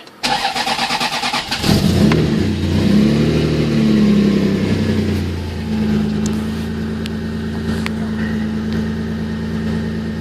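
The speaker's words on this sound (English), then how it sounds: "I've not started this in 3 weeks, so hopefully it will start." A Toyota MR2 with a 3.0 litre V6 starts from cold after sitting for three weeks: the starter cranks briefly, the engine catches with a loud rev, then settles into a steady, even idle heard close up with no talking.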